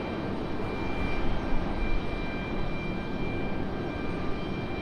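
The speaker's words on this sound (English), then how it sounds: "Here we go again, another C-17." A Boeing C-17 military transport aircraft near Raleigh-Durham International Airport gives a steady broadband jet roar, moderately loud and sustained, with slight swells and no speech.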